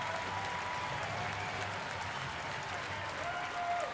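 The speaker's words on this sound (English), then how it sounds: "Adam Jones with a nice hand from the crowd here." A baseball crowd at an Orioles home game gives Adam Jones a warm round of applause, steady clapping and cheering from a large stadium audience that carries on throughout, with a commentator's voice faintly underneath.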